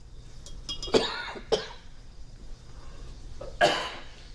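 A person coughs in short bursts several times, close and fairly loud, from mineral oil vapour given off as lithium metal reacts with water, with quiet breaths and faint room noise between the coughs.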